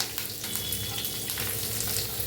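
Cumin, asafoetida, curry leaves and sliced onion frying in oil in a pan, a dense continuous sizzle with faint stirring clinks, close up and no voices.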